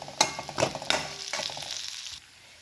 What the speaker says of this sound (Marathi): ओली मिरची आपल्याला तेलात अशी छान परतून घ्यायची आहे